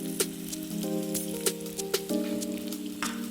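Onion and small shallots sizzle and crackle in a hot pan, a soft, steady frying hiss dotted with sharp pops, heard alongside faint sustained tones.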